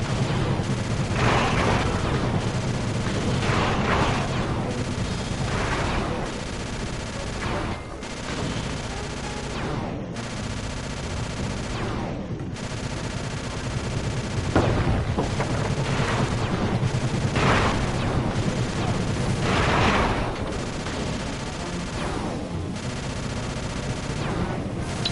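Sustained gunfire from a chopper shooting at guards in a Sly Cooper video game, a continuous loud rattle of shots with occasional heavier booms lasting the whole stretch.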